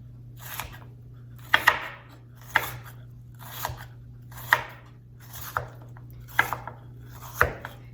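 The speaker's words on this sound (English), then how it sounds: "I would just go ahead and slice them again this way" A knife slices kohlrabi on a cutting board in about eight crisp, evenly spaced chops, close and distinct against a low steady hum.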